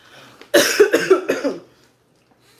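One close, harsh cough fit of several rapid barking bursts, then quiet.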